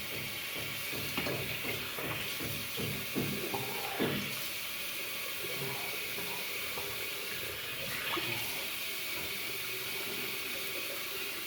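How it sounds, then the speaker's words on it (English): Tap water runs steadily into a sink after a shave with a 1965 Gillette Super Speed safety razor, switching from hot to cold, a close, even hiss with a few soft splashes and clinks near the start. "Hot and then cold water."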